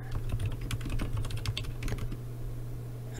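Code is typed on a computer keyboard in quick, irregular bursts of close key clicks over a low steady hum.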